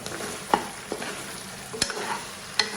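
Pork bones stir-fried with soybean paste in a wok, with sporadic sharp scrapes and clacks from a spatula over a low, steady sizzle, close and alone with no talk.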